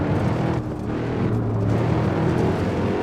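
A race car downshifting to second gear under braking in Assetto Corsa, the engine note dropping and then droning steadily at close range, with a brief dip as the shift happens.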